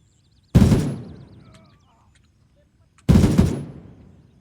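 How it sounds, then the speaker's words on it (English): Two loud gunshots ring out in the military shooter Gray Zone Warfare, about two and a half seconds apart, each a sharp crack with a decaying tail, with no talking. "The guns, pretty legit. Like the noise and how they feel, it feels really good."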